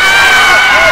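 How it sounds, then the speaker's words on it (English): A boxing crowd cheers steadily at a bout between Alex Hook and Connor George, a dense, continuous roar with no breaks across the short moment. "the crowd getting behind both these young men"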